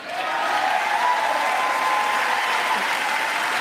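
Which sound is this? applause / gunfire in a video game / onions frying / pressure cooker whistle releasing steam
applause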